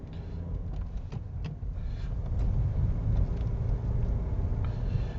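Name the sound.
manual transmission car driving through a roundabout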